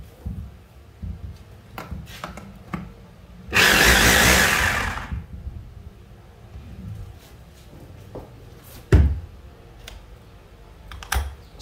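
A 220V electric rotary hammer drill for chiseling concrete, with speed control and reverse, runs in one loud, harsh burst of about a second and a half, set among quieter clicks and handling clatter.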